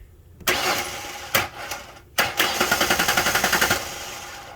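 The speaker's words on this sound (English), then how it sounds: "I can manually send power to the starter, causing the engine to crank." A 2007 Ford Explorer Sport Trac engine cranks on its starter, powered manually by jumping the starter relay pins, in short bursts, then settles into a rapid, steady chugging crank, loud and close.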